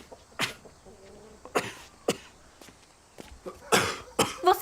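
Harsh coughs from a sick person, about five separate bursts spaced irregularly, close and fairly loud with quiet gaps between.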